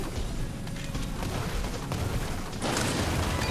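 Dense, continuous bursts of video-game explosions from Mega Man 11's Blast Man stage fill the soundscape at steady loudness, with a thicker, brighter blast swell near the end.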